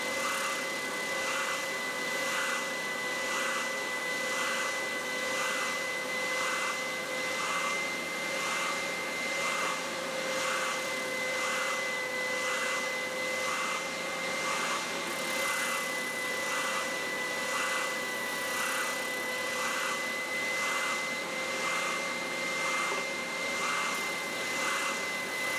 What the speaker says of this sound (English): I'll get the bobbin sander down and just give him a sand up to the line